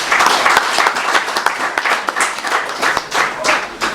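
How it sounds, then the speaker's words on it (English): A gathering applauds after a speech about building Akwa Ibom. Loud, crowded clapping fills the full few seconds at a steady, thick pace. "A round of applause, everyone."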